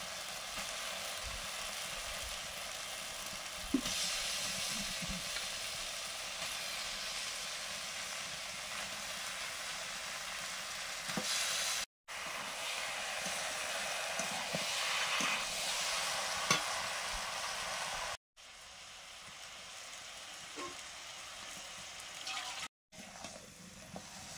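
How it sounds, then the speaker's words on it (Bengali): Meat added to fried spices for a thin meat curry sizzles steadily in the pan, a continuous close hiss with occasional stirring knocks and brief silent cuts. "মশলা কষা হয়ে গেছে, এবার মাংস দিয়ে দিচ্ছি"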